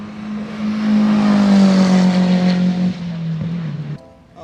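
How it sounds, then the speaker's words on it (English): Number 63 Mini race car at Road America passing close by, a loud, high-revving engine whose pitch slides downward as it goes past, then cuts off abruptly and fades to quiet. "here comes Bruce in the number 63 Mini"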